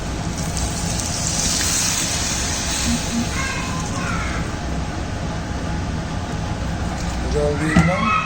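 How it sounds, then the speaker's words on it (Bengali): Potatoes frying in a hot pan after water has been added, giving a dense, continuous sizzling hiss like heavy rain, close and steady, with brief faint clinks and a short voice near the end. "জল দিয়ে দিয়েছি।"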